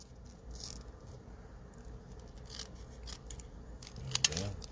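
Scissors snip through mirror paper in a quiet crafting setting, soft repeated cuts and rustling, ending in a sharper metallic snip and rattle near the close.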